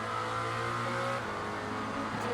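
A Lamborghini V8 race car from 2024 runs at the Imola circuit in the Le Mans Ultimate racing game. The engine gives a steady, moderate drone with sustained harmonic tones, driven gently at low speed, and there is no talk.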